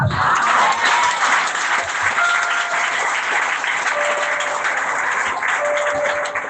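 A church congregation at a Sunday service bursts into sustained applause, dense and loud throughout, with faint tonal sounds drifting over the clapping.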